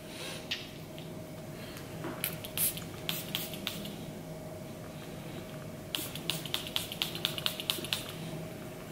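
A Chanel perfume bottle sprayed several times, with short, sharp hissing spritzes in two bursts, one early group and then a quicker run of puffs near the end, close and fairly quiet, and no talking.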